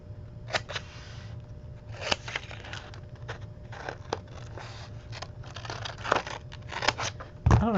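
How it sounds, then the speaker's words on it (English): Large scissors cut through paper in quick crisp snips and crunches, a close, irregular series of cuts at low volume with a faint background hum. "I don't know why I'm using those big scissors."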